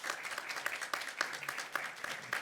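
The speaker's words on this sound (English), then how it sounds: "You got a big applause from the audience." An audience applauds after a talk at a European youth cooperation event, dense, even clapping heard faintly and at a distance, steady throughout without distinct voices.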